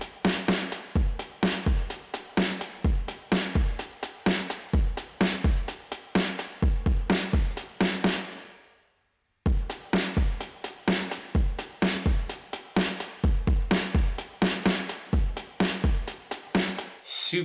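Drum loop played through a Logic Pro distortion plugin, with steady punchy kicks and bright cymbal hits in a repeating groove that fades out around the midpoint and then restarts, loud and close with no voices.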